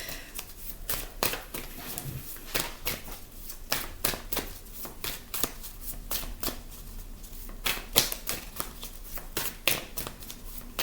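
A tarot deck shuffled by hand before a nine-card spread, a rapid run of crisp riffling card flicks and soft slaps, close and clear, repeating steadily without pause and with no talking.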